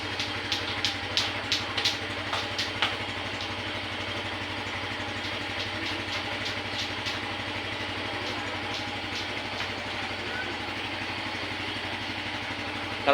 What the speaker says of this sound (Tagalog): Painitin lang po motor